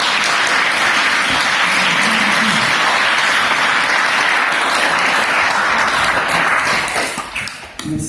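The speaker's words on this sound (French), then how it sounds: "je vous propose vraiment qu'on les applaudisse" Loud, sustained applause from an audience at the inauguration of a stained-glass window, Notre-Dame d'Espérance, steady for several seconds before tapering off at the end.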